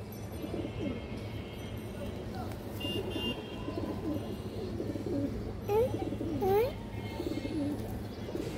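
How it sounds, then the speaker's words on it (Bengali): Two short cooing calls from a pair of old-line pigeons, clear and close, against a steady background hum in a pigeon dealer's loft. "দর্শক এই যে আরেক জোড়া পুরোনো লাইনের কবুতর"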